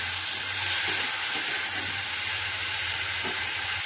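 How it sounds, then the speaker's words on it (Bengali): Turmeric and cumin powder fry in a pan while being stirred, giving a steady close sizzle and hiss with faint scraping, and no talk. "এবার এখানে দিয়ে দেবো হলুদের গুঁড়ো, দিয়ে দিচ্ছি একটু জিরের গুঁড়ো। ভালো করে কষিয়ে নেব।"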